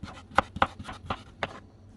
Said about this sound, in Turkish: Patatesleri de avuçların boyutundan biraz büyük olacak şekilde doğruyorum.